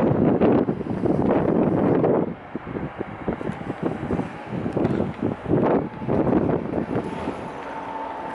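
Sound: wind blowing outdoors

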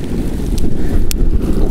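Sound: strong wind on microphone

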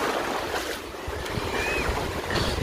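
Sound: waves at Azaiba Beach

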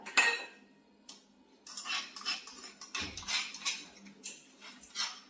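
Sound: putting ground dried prawns onto a small plate

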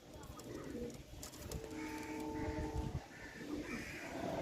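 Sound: Kalsera Andhra pigeon pair cooing

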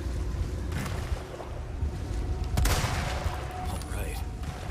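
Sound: rifle gunfire in the video game Resident Evil 4 Remake

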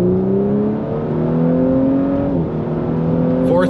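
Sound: Audi B9 S4 accelerating through gears on performance run

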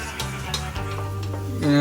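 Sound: onions sautéing in a pan

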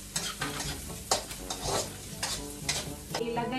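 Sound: spices sautéing and being stirred in pan

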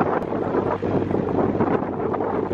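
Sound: strong wind

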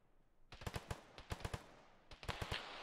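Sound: gunfire in a military video game (ShackTac)

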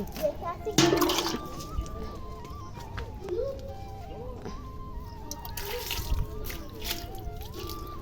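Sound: water splashing while washing a bicycle

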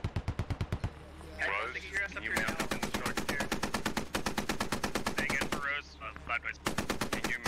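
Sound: gunfire in the video game Squad

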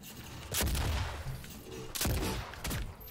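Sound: gunfire in the video game DOOM on Switch

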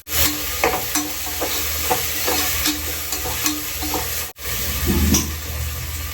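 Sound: sautéing ginger, garlic, coriander and mint in pan

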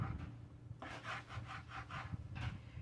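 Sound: knife sawing through a sushi roll

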